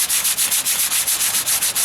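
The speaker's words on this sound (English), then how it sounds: "So I'm using a little bit of 80 grit sandpaper." Rapid back-and-forth hand sanding with 80 grit sandpaper on a repair patch in the driver's side wheel arch of a 1998 Ford Ranger. The strokes are loud, close and steady, about five or six per second, with no talking.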